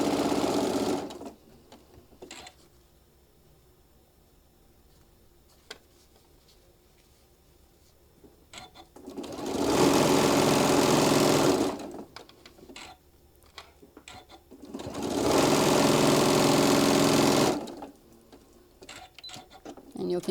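Sewing machine stitching a quarter-inch seam across a table runner: two sustained bursts of steady whirring, each a couple of seconds, separated by quiet handling noises and faint ticks.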